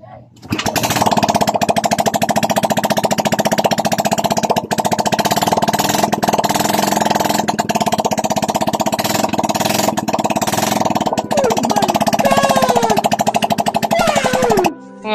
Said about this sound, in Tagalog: Kailangan mapaandar natin na walang tambutso para marinig natin ang andar sa bungangan ng kanyang cylinder.